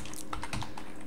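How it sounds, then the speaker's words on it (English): A computer keyboard clicks in a quick, close, steady run of light keystrokes as a web address is typed into a browser, with no talk over it. "and I'll type in Space Desk."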